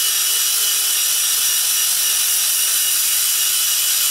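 Rust is being scrubbed off an old Chevy engine block in a shop, producing a steady, loud, continuous abrasive hiss with no breaks and no voices.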